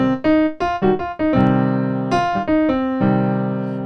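Piano plays a blues scale pattern over a minor chord, a quick run of distinct struck notes and short chord stabs, close and clear, ending on a held ringing chord with no voice.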